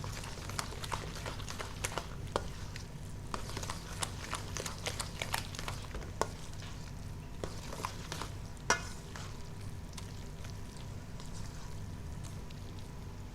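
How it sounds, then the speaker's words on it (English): An egg filling is stirred in a pan with a quiet, steady scraping and soft sizzling, with faint irregular clicks of the utensil against the pan, heard alone at a low level. "We just give it a quick stir."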